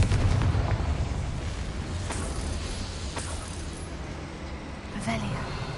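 The Confringo explosive spell in the Hogwarts Legacy video game makes a dense, rumbling blast that fills the clip, with a few sharp crackles and pops over a low, continuous roar.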